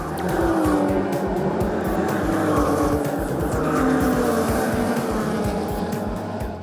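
Race cars in a historic racing event on the Dijon-Prenois circuit roar past in a loud, continuous pack, with engine tones rising and falling as they pass and fading slightly at the end.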